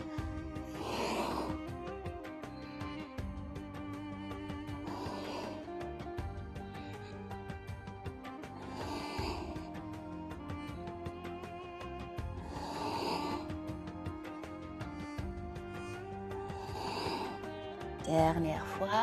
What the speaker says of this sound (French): Ujjayi Pranayam, si tu te rappelles, le souffle, la respiration qui fait un petit bruit dans la gorge